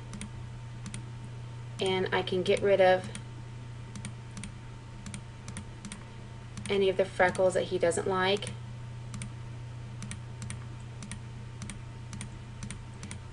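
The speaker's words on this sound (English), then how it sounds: "We're going to do more clicking." Two short bursts of rapid clicking from a computer mouse while touching up a photo in editing software, heard close and crisp between stretches of a person talking.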